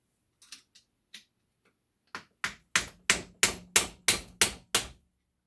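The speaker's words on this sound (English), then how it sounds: "Use your best hammer available" Hammer blows ring out against a brass fitting inside a hot water heater, a few light taps followed by a steady run of nine sharp, loud metallic strikes at an even pace.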